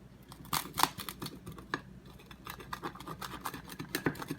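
A knife slicing through a homemade anabolic bodybuilding pizza, giving a series of close, scratchy cutting strokes with a few sharper crunches, all heard without voices.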